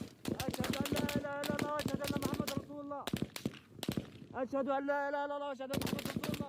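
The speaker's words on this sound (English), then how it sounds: "much of which is almost constant gunfire." Rapid bursts of gunfire crackle almost without pause, dense volleys of sharp shots with brief gaps, while a voice cries out between them.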